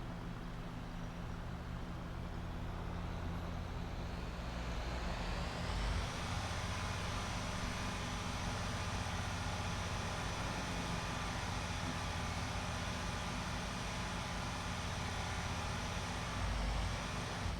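A video game vehicle engine drones steadily while driving, a broad continuous roar that swells slightly partway through and holds on, with no talk over it.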